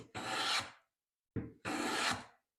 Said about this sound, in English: Taking the scrub blade, and get rid of the dirty wood.